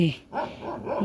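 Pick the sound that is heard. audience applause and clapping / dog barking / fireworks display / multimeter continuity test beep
dog barking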